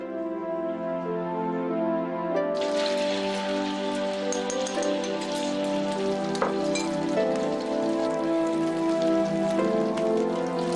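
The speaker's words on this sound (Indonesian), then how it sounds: "Yasin gorengin dulu ya, Kak." Food fries in a pan, a continuous crackling sizzle that stays steady throughout, with a sustained tonal hum running underneath and no speech.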